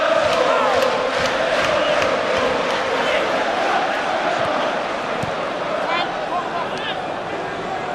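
A packed stadium crowd at a Sunderland versus Everton football match roars and cheers continuously, a broad sustained wash of noise with scattered shouts and a commentator talking over it.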